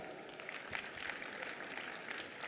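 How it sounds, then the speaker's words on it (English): Faint, distant applause from a crowd, a steady patter of clapping lasting a couple of seconds. "please give a warm round of applause"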